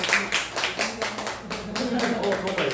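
Audience clapping at a Korean empathetic-conversation coaching session, a burst of hand claps that runs steadily throughout, close and fairly loud, with voices murmuring underneath.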